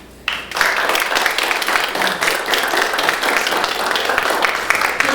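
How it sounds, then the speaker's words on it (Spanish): A crowd at a legal congress in Mexico City bursts into loud, dense applause for the panel members, steady clapping that continues evenly without talk. "Demos un fuerte aplauso a los miembros de esta mesa."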